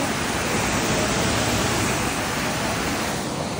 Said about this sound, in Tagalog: malapit sa falls.